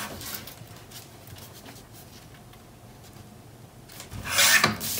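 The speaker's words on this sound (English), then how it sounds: "Okay, we need to trim just a little bit off." Paper for a Graphic 45 mini album is trimmed with soft rubbing and scraping strokes up close, ending in a louder, brighter slicing swipe.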